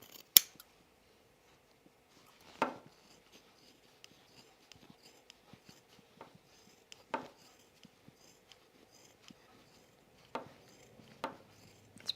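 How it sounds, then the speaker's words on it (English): Scissors snipping through thick fabric while clipping a jacket neckline and trimming a corner, a handful of sharp, sparse cuts spaced a few seconds apart, close up in a quiet room without speech. "We're going to clip our neckline and trim our corner here as well."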